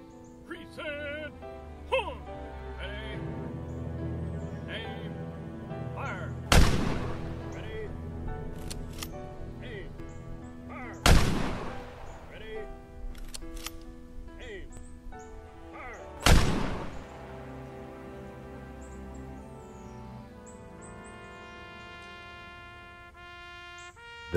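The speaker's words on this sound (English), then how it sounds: "Seven Honor Guard soldiers, wearing U.S. Army dress blues, ceremoniously raise their rifles" U.S. Army Honor Guard rifle volley at a military funeral, three sharp loud cracks spaced several seconds apart over soft orchestral music and narration.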